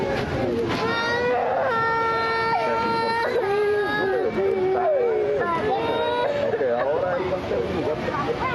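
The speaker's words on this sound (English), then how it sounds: "Those are the sounds of children crying for their parents" Young children separated from their parents cry and wail in high, sustained, quavering sobs, several voices overlapping over a murmur of adult voices and background noise.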